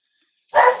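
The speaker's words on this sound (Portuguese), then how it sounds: "agora o cachorro latindo aqui" A single short dog bark bursts out of silence, close and fairly loud, with no other sound around it.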